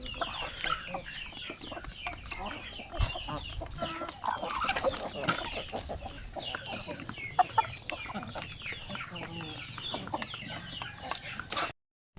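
Basilan native chickens cluck steadily at close range, with scattered sharper squawks and a busy, continuous farmyard texture throughout.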